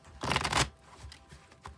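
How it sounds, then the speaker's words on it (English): Tarot cards being shuffled by hand, a loud riffling burst lasting about half a second followed by softer scattered card handling close to the microphone. "I'll shuffle till I feel like it's good, and then we'll cut and deal right off the top."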